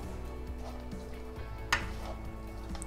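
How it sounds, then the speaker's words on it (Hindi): Grated coconut roasting in a pan over a low flame gives a soft, steady sizzle with light scraping and stirring, quiet throughout and marked by one sharp clink of a utensil. "धीमी आंच पे हम ऐसे भूनेंगे इसे"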